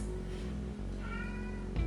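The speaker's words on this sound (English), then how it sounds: "That's my cat. He's trying to get into this room." A pet cat meows indoors, trying to get into a room, with a couple of drawn-out calls close to the microphone and no talking over them.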